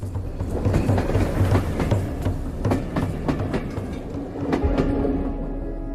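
Rovos Rail luxury train rolling along the Copper Trail tracks, a steady close rumble with repeated rhythmic clickety-clack wheel beats over rail joints, alone and continuous.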